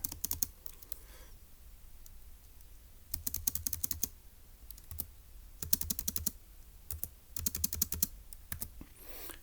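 Bursts of rapid computer-keyboard typing in a quiet room, several clusters of crisp keystrokes separated by short pauses, close and moderately loud with no talking.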